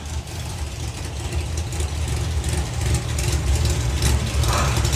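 Nine-second doorslammer drag racing cars side by side, a deep rumbling engine drone building steadily in loudness, heard at some distance with broadband crowd-like noise around it.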